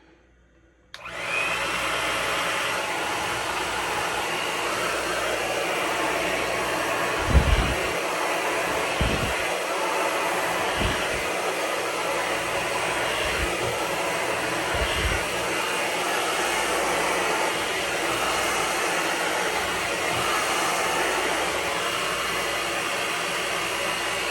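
A hair dryer on high heat switches on and blows loudly and continuously for over twenty seconds while styling natural hair, with a few soft thumps beneath the steady roar.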